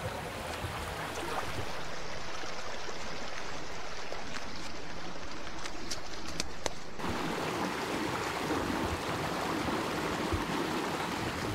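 A creek flows steadily while hunters cross it in the woods, a full, constant rushing wash of water heard close and loud throughout, with no talk.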